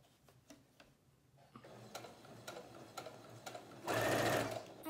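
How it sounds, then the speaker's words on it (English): Sewing machine stitching fabric for a bird basket cover, with rapid rhythmic needle ticks in short bursts, then a loud sustained run near the end as it backstitches; close and clear, no talking. "And now I'm at the end, so I'm going to backstitch again."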